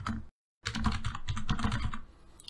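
Rapid clicking keystrokes on a computer keyboard as an email address is typed, with a brief silent gap before a dense run of quick taps that trails off.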